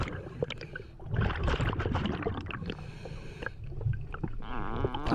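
An open-circuit scuba diver breathes underwater in a flooded mine, with loud bursts of bubbling exhalation and gurgling, close and continuous over a low watery rumble.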